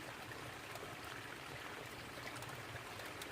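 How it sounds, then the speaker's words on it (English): A small babbling stream flows near a tarp camp, a soft, steady trickling wash of water heard faintly and continuously with no voices. "Just lie here and listen to the little babbling stream under the tarp"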